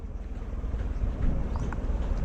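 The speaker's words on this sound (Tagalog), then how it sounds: "Amihan ang mubira ng hangin ay amihan." The northeast monsoon wind blows at sea, making a low, steady buffeting rumble on the microphone with faint background noise throughout a short stretch.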